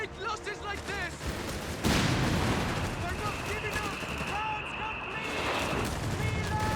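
Grenades burst and gunfire crackles in the World War II strategy game Company of Heroes 3, a sudden loud blast followed by scattered shots and rattling bursts over a dense battle din.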